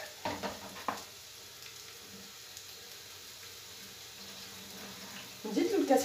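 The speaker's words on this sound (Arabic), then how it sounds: "نزيد لها المغرفه الكبيره تاع الفرينه ونخلط مليح" Flour stirred into melted butter in a pan while making a quiche and tourte filling: soft scraping and stirring bursts at the start and end, with a quiet, faint kitchen background in between.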